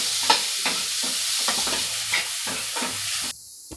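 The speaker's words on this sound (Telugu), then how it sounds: "ఇప్పుడు ఇది బాగా వేయిన తర్వాత దీంట్లోకి క్యారెట్ తురుము వేసుకొని బాగా వేయించుకుందాం." Grated carrot fries with onion and ginger-garlic paste in a hot pan, a loud steady sizzle broken by rhythmic scraping stirs, then dropping off abruptly near the end.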